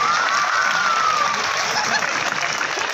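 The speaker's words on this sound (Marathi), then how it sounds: "एकदा जोरात टाळ्या वाजवा तुमच्या." An audience at a Marathi motivational lecture claps loudly in a dense, sustained burst, with cheering and shouts mixed into the applause.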